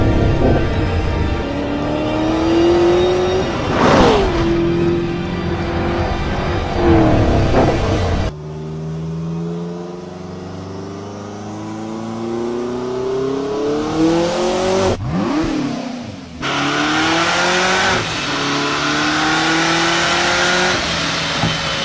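Hennessy Venom F5 twin-turbo V8 hypercar accelerating hard, a loud, close engine roar climbing through rising pitches with abrupt breaks between gears and sustained revving.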